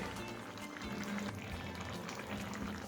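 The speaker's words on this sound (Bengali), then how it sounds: "এবার এরকমভাবে উইদাউট কভার আমি এটাকে 2 থেকে 3 মিনিট একটু ফুটিয়ে নেব।" Mustard parshe fish curry with potato and eggplant simmers uncovered in a pan over a gas flame, a soft continuous bubbling close by with no other sounds.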